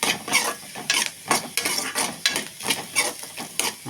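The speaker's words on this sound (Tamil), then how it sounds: "நல்லா எண்ணெயை விட்டு வதக்கிக்கிடணும். நல்லெண்ணெய் தான் விடணும்." Pirandai sautéing in sesame oil in a pan, a soft sizzle broken by quick rhythmic scrapes and stirs of a spatula, close and steady.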